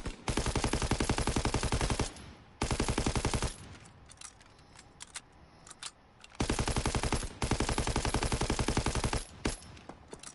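Rapid automatic gunfire in Call of Duty WWII, loud bursts of several seconds with a short gap, then quieter scattered shots and clicks before another long burst and a final brief one.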